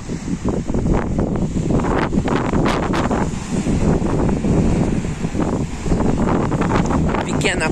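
Wind gusts and surf on a small volcanic beach near Calhau, Cabo Verde, loud and buffeting the microphone, with a voice talking over the blustery wash.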